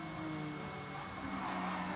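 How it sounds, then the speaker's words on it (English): Race car engines drone steadily at high revs as a pack of cars runs down the Brands Hatch Indy straight in a racing video game touring car race, a dense continuous roar with no pauses. "a gaggle of cars going down the straight"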